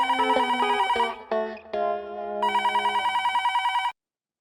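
A telephone rings in a home in a Hindi sitcom, a bright electronic ringtone in repeated pulsing bursts and tones that stop abruptly near the end, loud and clear with no talking over it.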